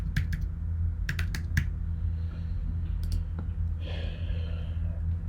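Keystrokes on a computer keyboard as a username and password are entered, a few quick clusters of clicks spaced apart over a steady low hum, with no talking.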